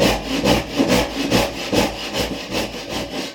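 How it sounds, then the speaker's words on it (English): Hand saw cutting a relief kerf into timber for a housing (trench) joint, steady rhythmic back-and-forth rasping strokes, about seven even strokes, close and loud with no talk. "I'll put a relief cut in the centre of that."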